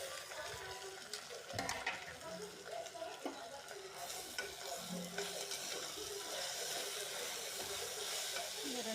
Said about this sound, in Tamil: இப்போ தக்காளி கொட்டிக்கலாம்.